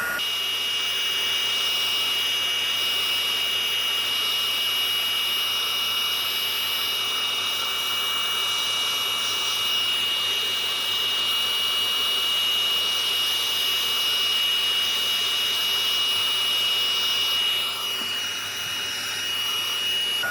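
A heat tool blows hot air onto the back of stamped card stock at a crafting table, producing a loud, steady fan whir and hiss that continues unbroken throughout.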